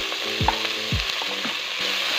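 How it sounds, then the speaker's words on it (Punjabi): Chopped fenugreek leaves roasting with cumin in a hot pan, a steady close sizzle broken by a few sharp scraping stirs. "ਅਤੇ ਮੇਥੀ ਨੂੰ ਅਸੀਂ ਚੰਗੀ ਤਰ੍ਹਾਂ ਭੁੰਨ ਲੈਣਾ ਵਾ"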